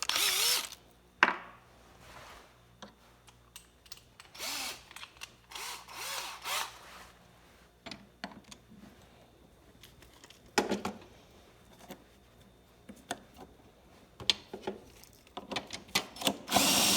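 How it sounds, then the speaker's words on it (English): Power drill spinning a 9/16 trimming attachment against 8.6 BLK brass cartridge cases, short bursts of loud whirring and grinding separated by quiet pauses, close up. "And again, I use my drill."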